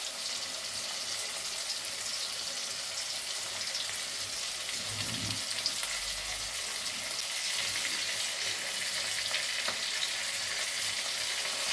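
Leftover minced meat being stirred into a frying pan, with a steady sizzle of frying throughout and brief scraping stir sounds near the middle, no talking.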